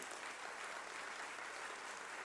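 Steady, dense applause from a large audience fills a brief moment during the State of the Nation Address, even and sustained with no voices.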